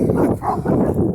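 Dogs outdoors bark in a short, close run of yaps and woofs, fairly loud and with no talk over them.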